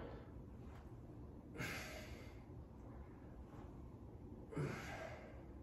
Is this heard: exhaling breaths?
yes